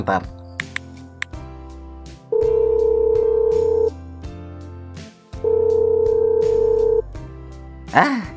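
A phone call rings out unanswered: two long, steady ringback tones separated by a pause, with voices murmuring underneath.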